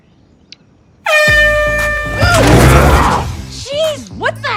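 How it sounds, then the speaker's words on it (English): A very loud, sustained air horn blast suddenly cuts through a quiet room, blaring for over a second and then tailing off as voices react with exclamations over and after it. "Was the air horn really necessary?"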